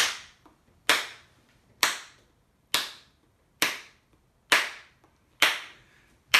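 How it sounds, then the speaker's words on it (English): Palmas, flamenco-style clapping with three fingers striking the palm: eight sharp, crisp claps at a steady, even pulse about one per second, close and loud with silence between them. "this has a special clap. It's called palmas."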